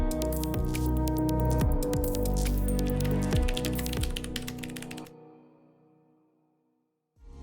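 Keys clack in quick bursts on a Ducky One 3 Mini mechanical keyboard with tactile Cherry MX RGB Clear switches, close and crisp, then the typing stops and the room falls nearly silent.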